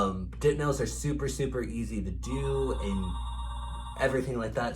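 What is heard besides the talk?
telephone ringing in nail salon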